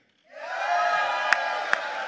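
A live audience at a Christmas concert in Fall River bursts into cheering and whooping. The sustained roar swells quickly after a brief silence, with a few sharp claps or shouts rising above it.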